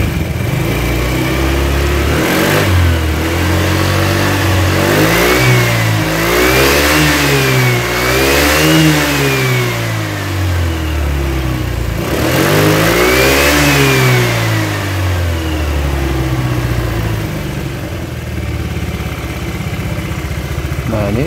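A car engine with a small radiator leak is revved hard from idle, climbing and falling in two strong surges before settling back to a steady idle, loud and close with no talking.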